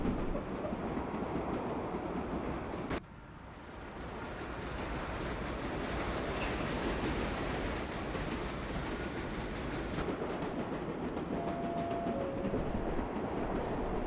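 A subway train in the game World of Subways 4 rolling along on an express run, a steady rumbling track roar with a sharp transient near three seconds and a brief tonal squeal later, no talking.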